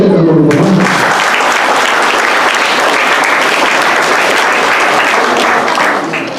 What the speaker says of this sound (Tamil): அதெல்லாம் பார்க்கும்போது அது ஒரு பெரிய கைத்தட்டல் கொடுக்கணும்